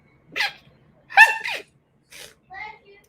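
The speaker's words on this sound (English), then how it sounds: "Who's sneezing like that?" A person sneezes several times in quick succession, sharp close bursts with breathy catches between them and a couple of smaller sneezes trailing off.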